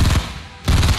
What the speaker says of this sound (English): What are those shots coming from?